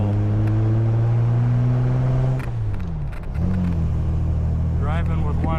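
A Jaguar XK-120 climbs a hill with a loud, steady engine drone. The note dips briefly in a gear change, then pulls again and rises toward the end, with a rumble underneath.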